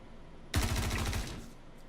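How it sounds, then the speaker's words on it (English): A short burst of rapid automatic gunfire in the Star Citizen space shooter, loud and close, lasting about a second before cutting off into quiet. "Once they hear those gunshots,"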